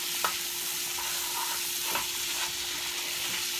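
Chicken for curry stewed chicken cooks in a pan with a steady, close, even sizzle throughout, broken by a few faint scrapes or stirs.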